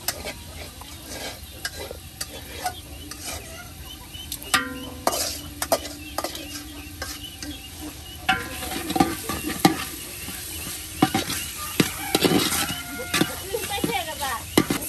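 Rice being turned over in a large cooking pot over a village fire, with continual scraping and clattering stirs, sizzling underneath, and louder metallic knocks later on; voices talk faintly in the background.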